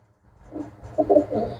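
A black-beaked female pigeon coos close by in a short run of soft, rolling pulses, heard alone.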